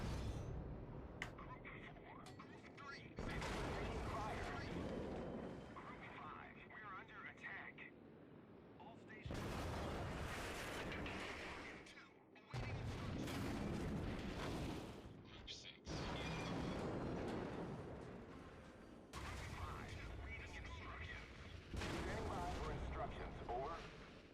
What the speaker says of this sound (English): Well, looks like I'm now starting to get under fire.